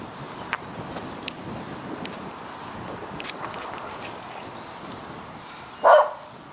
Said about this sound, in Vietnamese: Thôi đi về, chó sủa quá.